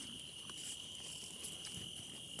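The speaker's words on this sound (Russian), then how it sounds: "Послушаем сверчков." Crickets chirping outdoors on a summer evening, a steady high-pitched trill sustained throughout, faint and distant under light background hiss.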